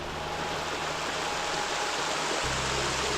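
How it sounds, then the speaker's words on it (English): Mountain stream waterfall on Oahu, Hawaii, rushing in a steady, loud, full-bodied roar of falling water that continues unbroken throughout. "This is definitely going to be our last waterfall."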